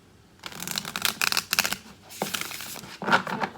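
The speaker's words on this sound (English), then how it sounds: "One more shuffle and we'll try again." A deck of tarot cards is shuffled in several quick riffling bursts, close and crisp, with short pauses between shuffles.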